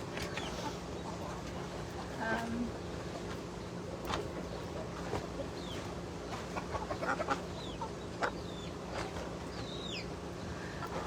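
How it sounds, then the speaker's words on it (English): Hens cluck and murmur softly in an enclosed space, with scattered bird calls and a steady low hum in the background. "You can hear we also got some broody hens in here as well."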